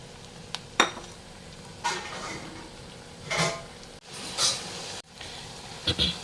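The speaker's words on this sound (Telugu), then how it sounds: "ఇప్పుడు ఇందులో టమాటా ముక్కలు వేయాలి" Tomato pieces going into a pan of frying onions and green chillies: soft sizzling under a series of sharp spoon-on-pan clinks and stirring scrapes spaced a second or so apart.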